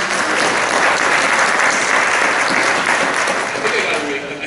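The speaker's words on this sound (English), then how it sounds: "Big round of applause." Dense, sustained applause from a conference audience at a city panel discussion, loud and even throughout, tapering only slightly at the end.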